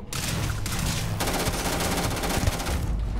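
Continuous rapid gunfire from a Starfield firefight rattles on loud and close throughout, with overlapping bursts and no pause, no voices audible.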